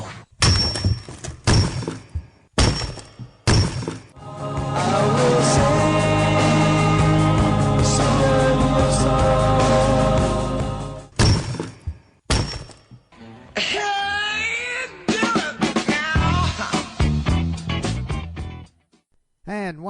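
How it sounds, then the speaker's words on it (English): Rock cracking in sharp, loud thuds and splits, several hard impacts separated by silence, with a long dense rumbling crack in the middle and more scattered knocks and a whooshing sweep toward the end. "that's the sound of rock cracking."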